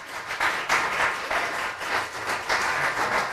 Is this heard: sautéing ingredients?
no